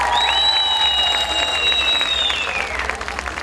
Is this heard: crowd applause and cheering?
yes